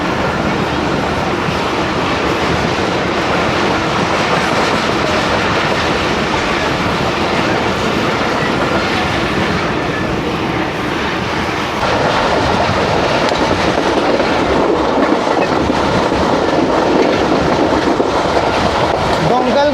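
Train rolls through the Nizamabad railway station platform, heard from aboard as a loud continuous rumble with steady clickety-clack of wheels on rails, the tone shifting partway as the surroundings change.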